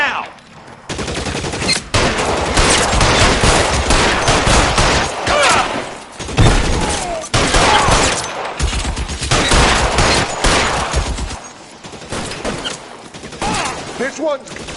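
Heavy gunfire in the video game L.A. Noire: loud, dense bursts of rapid shots and volleys fill nearly the whole stretch, broken by a few brief pauses.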